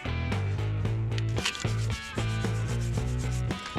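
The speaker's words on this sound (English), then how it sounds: "Let's give it a little brush." A brush scrubs the gasket surface of a water pump on a Bobcat T190 skid-steer loader. Close, steady back-and-forth rubbing strokes repeat in a quick rhythm with no one talking.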